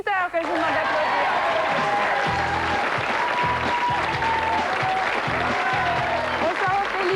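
A TV studio audience applauds as a singer is introduced, a loud dense burst of clapping that starts abruptly and holds steady, with a voice talking over it and music underneath.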